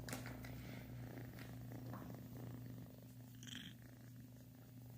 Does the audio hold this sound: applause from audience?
no